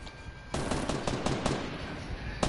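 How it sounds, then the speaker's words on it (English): A machine gun firing in a battle royale video game, a rapid burst of loud, closely spaced shots after a short pause, then one more shot at the end. "I have a machine gun."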